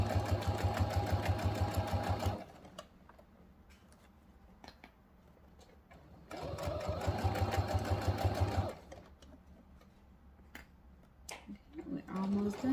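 A sewing machine stitches a seam on a leather key fob, running in two steady, loud bursts of rapid needle chatter with a quiet gap of light handling ticks between them.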